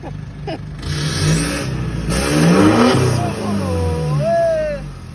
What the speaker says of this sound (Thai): ผมจะบอกว่าท่อเดิมคงเป็นไปไม่ได้ละเสียงหวานเย็บขนาดนี้